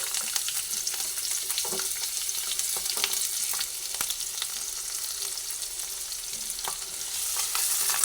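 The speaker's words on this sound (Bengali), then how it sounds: "প্রথমে পেঁয়াজটা দিয়ে দিচ্ছি" Onion sizzles in a pan alongside bitter gourd for a kakrol vorta recipe, a steady close frying hiss dotted with frequent crackles and pops, no voices.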